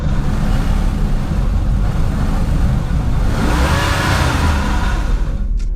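An all-wheel-drive Toyota Corolla Cross, with traction control on, sits on off-road rollers during a three-wheel traction test. Its engine drones loudly and steadily, rising into a harder, whining rev midway before dropping off abruptly at the end.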